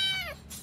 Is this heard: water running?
no